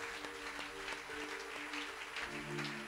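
A church congregation applauds and cheers during a French-language worship service, a steady wash of clapping held at moderate volume with sustained keyboard or organ chords sounding underneath.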